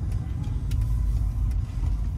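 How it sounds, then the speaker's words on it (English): A 2000 Mercedes-Benz SL600 R129 with a 12-cylinder engine drives along with a steady, low engine hum and road rumble, heard from inside the car with no talking. "This is a 2000 SL600. R129, 12-cylinder model,"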